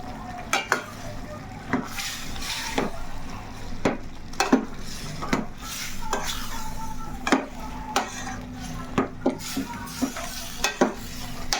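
A spoon stirs mushroom curry in a pan after chili powder goes in, knocking and scraping against the metal in a run of distinct clinks over a low, constant sizzle.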